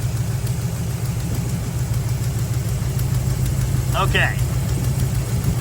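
A 1973 Dodge Challenger big block engine idles with a steady low rumble, its note dipping briefly as a spark plug cylinder is tested, with a short spoken word near the start.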